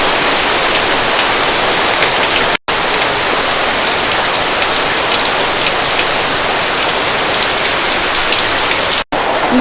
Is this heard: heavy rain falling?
yes